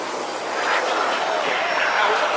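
An F-16 fighter jet with a landing gear failure circles the pattern at a Florida airfield, its engine a steady, loud roar that swells slightly as it passes.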